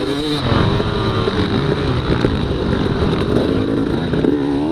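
Dirt bike motorcycles at the start of a hare scramble race roar together in a loud, continuous mass of engine noise with rising and falling revs, close by.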